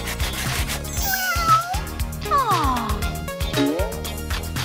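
A cat meows in a few rising and falling calls while its claws are handled, heard over a steady, loud musical backing with no talk.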